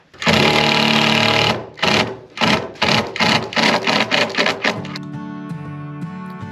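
A power drill whirs loudly up close in a long run, then in a series of short rapid bursts, settling into a steady humming whine, while fitting poplar board and batten siding on a cabin exterior.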